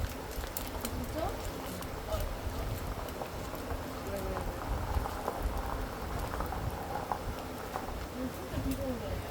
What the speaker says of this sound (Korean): 진짜 비가 오네.